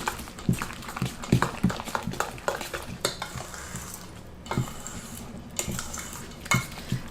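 Pancake batter with flour being mixed in a bowl, giving irregular clinks and scrapes of a utensil against the bowl with softer stirring between, close and moderately loud.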